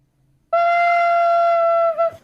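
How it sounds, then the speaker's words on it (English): A single steady flute note, used as a dart attack sound effect in a tabletop game session, sounds clearly for about a second and a half after a brief silence, ending with a slight dip in pitch. "You want to give us a little musical note from the flute for the dart attack?"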